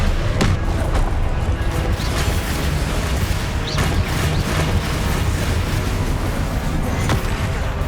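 Confringo explosion spell blasting in the Hogwarts Legacy video game, a dense, loud continuous rumble of booming impacts and crackling bursts with sharp hits near 0.5 and 7 seconds, no voices.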